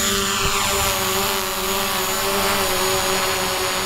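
A loud, steady roar of aircraft engines near an airport fills the air, a constant droning whine with no pauses, close by.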